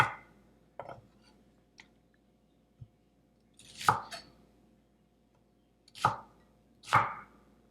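A knife chops vegetables for Korean pork bulgogi on a cutting board, with a few scattered light taps and then several sharp, close chops spaced about a second or two apart, no talking.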